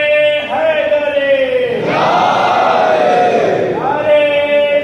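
A large crowd at a religious gathering shouting in unison the Urdu response to a Naara-e-Haideri call, a loud roaring chant from many voices that swells and holds, following a single leading voice.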